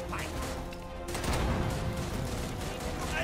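Gunfire from a World War II shooter game (RAID: World War II) crackles as dense, continuous bursts at moderate distance, building slightly louder midway, with game voices faintly mixed in.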